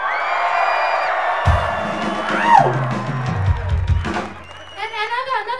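A live concert crowd at a show roars and whoops loudly for Bart, a sustained cheer with yelling, while a voice on the PA talks before and after it.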